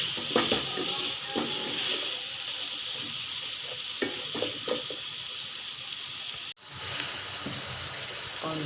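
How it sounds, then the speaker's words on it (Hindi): White chickpeas (chole) fry and get stirred in a pan, a steady close sizzle with scraping stirs and soft clinks, one brief dropout near the end before the frying resumes. "अब इसे भूनूँगी थोड़ी देर के लिए,"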